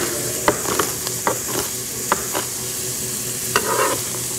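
Trimmed French green beans, cut into half-inch pieces, tumble into a cooking pot with a few scattered clinks and rustles over a steady sizzling background.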